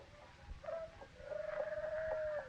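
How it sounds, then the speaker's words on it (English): A hoot owl call plays as a radio drama sound effect, a faint sustained tonal hoot that holds and wavers over a quiet backdrop, with no talking. "Is that a hoot owl?"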